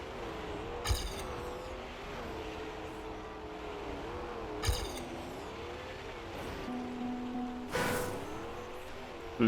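The Desert Car Reactor car in Trackmania drives on snow, its engine droning steadily and shifting in pitch as it steers, with a few sharp bursts and skids breaking through.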